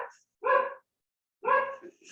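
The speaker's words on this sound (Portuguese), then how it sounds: "Vocês estão ouvindo um latido de cachorro, naturalmente, né?" Two sharp, separate barks from a house dog, about a second apart, close and clear against an otherwise quiet room.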